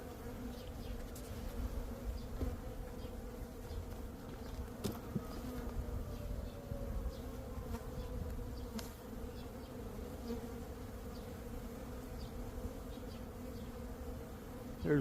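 Honey bees buzz steadily around an open hive during a spring inspection as a second brood box is added and mites are treated; a dense, continuous drone fills the background with occasional louder passes of individual bees near by.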